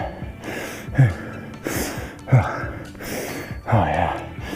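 Someone breathes heavily during a cardio stretching workout. The breathing is close and loud, with four rhythmic sharp gasping inhales and sighing exhales and no speech.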